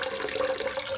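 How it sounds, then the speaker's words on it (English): Water flows weakly but steadily from a toilet fill valve, a close, continuous hissing trickle with no talking. "the fill valve starts filling the toilet from in here"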